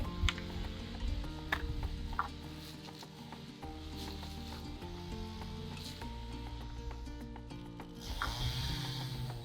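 1.5 inch screws driven into a cattle panel arched trellis garden box, a ratcheting, whirring mechanical drive sound that repeats in short bursts at close range.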